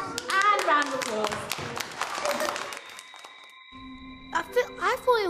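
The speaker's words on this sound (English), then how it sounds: "And a round of applause." Young children in a Year 1 classroom break into a burst of applause, close and lively alongside children's voices, then it fades before a few short sharp claps return at the end.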